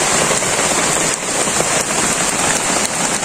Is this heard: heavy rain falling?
yes